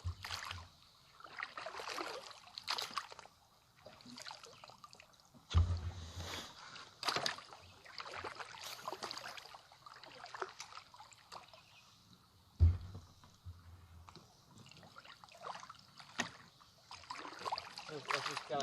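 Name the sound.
rowboat being paddled across a pond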